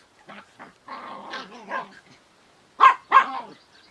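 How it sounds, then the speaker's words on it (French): Miniature Pinschers play in a garden, growling and grumbling with a few short barks and yips, ending in two louder sharp barks. "Les chiens qui jouent."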